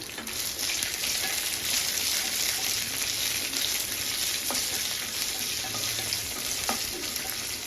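Peanuts frying on a low flame for a bottle gourd chutney, a continuous soft sizzle with a few faint clicks of the nuts moving in the pan, heard close and alone.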